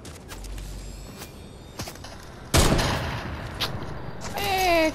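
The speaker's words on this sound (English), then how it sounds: "Who's shooting at me?" Gunfire during a zero-build solo Fortnite match: scattered shots early, then a loud burst near the midpoint followed by continued firing and a rising whine, heard up close.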